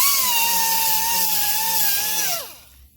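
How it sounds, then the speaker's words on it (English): A power sanding tool works a rusted car panel with a loud, high, steady whir that holds for about two seconds, then winds down quickly and stops. "then you sand it down"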